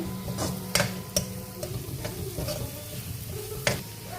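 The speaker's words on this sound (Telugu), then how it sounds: "ఇప్పుడు కారం వేసాం కాబట్టి కొంచెం ఫ్రై అయితే చాలండి" Chili powder frying in a pan for a paneer dish, with a soft continuous sizzle under several sharp scraping strokes of a stirring spoon, close by.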